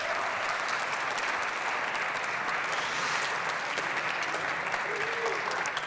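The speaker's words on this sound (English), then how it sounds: "a warm applause for Hein Heijen" A conference audience gives sustained applause for a speaker being welcomed on stage, a thick, continuous patter of many hands throughout, close and even in level.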